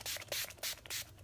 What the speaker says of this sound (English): I'm going to go in with my Mario Badescu facial spray with aloe, herbs, and rose water